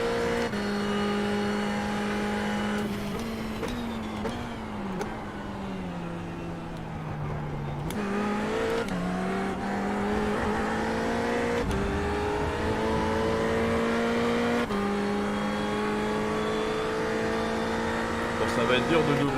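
Several BMW race cars in a racing video game, engine notes droning steadily and rising through gears, with a voice talking over them throughout.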